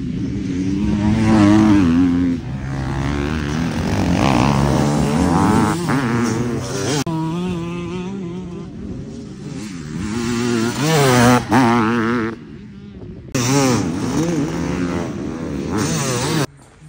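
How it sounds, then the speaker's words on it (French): A 500 CR two-stroke enduro motorcycle at a world enduro championship round revs hard and loud up close, its engine note rising and falling through repeated throttle blips, with brief cuts around twelve seconds and again near the end. "La moto va bien pour un 500 CR, hein, évidemment."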